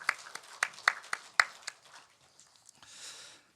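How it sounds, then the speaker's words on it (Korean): Scattered hand claps come from a congregation during a Sunday church service. A few sharp, close claps are heard at uneven intervals. The clapping thins out into softer, sparse taps and then gives way to faint background rustle. "우리 다시 한번 힘찬 축복하기 박수하십시다"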